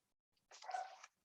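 A single dog bark or yelp rings out briefly and alone, close and moderately loud, amid a lecture setting.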